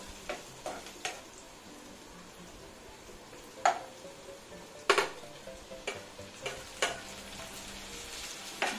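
Onions and tomatoes sauté quietly in a pan, with a soft low sizzle broken by occasional sharp clinks of a spoon stirring against the metal.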